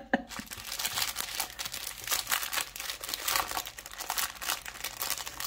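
Thin plastic packaging of a Fansells diamond painting kit crinkles and crackles continuously up close as it is torn open and handled, with busy, uneven rustling throughout.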